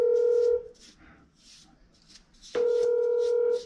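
Phone ringback tone while a plumber calls during an apartment water-leak repair: two steady tones about two seconds apart, loud and close, with faint background sounds in the gap.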